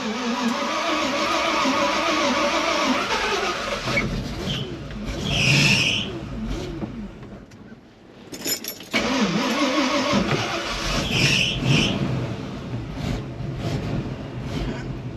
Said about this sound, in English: Old gasoline engine.